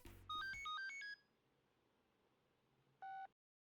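A telephone ringing on a call, heard as a short run of bright electronic ring tones followed by a quiet pause and one final tone, fairly faint and with no talk over it.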